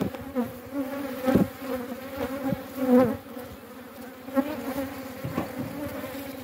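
Honey bees swarm around an open beehive, a close, dense buzzing drone with shifting pitch and swelling bursts as individual bees pass near, heard alone without talk.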